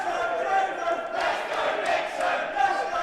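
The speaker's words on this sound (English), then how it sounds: "Crowd fired up." Wrestling crowd in Cambridge roaring and cheering during a heavyweight championship match, a continuous wash of voices with louder surges, fairly close and busy.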